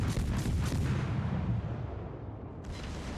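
Ship gun salvo firing in World of Warships, a heavy rumbling artillery boom that rolls and decays over a few seconds, loud and low with a renewed hiss of noise near the end.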